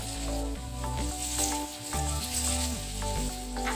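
Paneer cubes fry in a hot pan with a steady, close sizzle. Soft scraping stirs come at regular intervals and briefly change the hiss.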